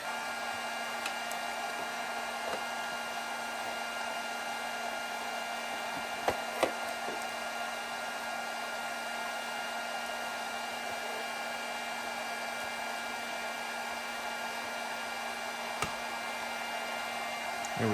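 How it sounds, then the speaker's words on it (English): A heat gun warms the rubber carburetor boot on a 1981 Honda XL500S motorcycle, giving a steady, close whirring blower drone that runs throughout, with a couple of faint clicks. "I'm gonna heat up the boot just a little bit with a heat gun just to make it a little more soft"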